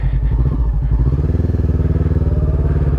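Honda CBR500R motorcycle being ridden, its engine throbbing with a steady pulsing idle-to-low-rev rhythm, loud and close from the rider's position.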